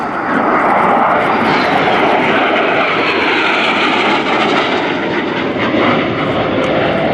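An AV-8B Harrier II jet roars loudly and continuously during a flying display at an air show, its broad engine noise filling the whole stretch with no voices over it.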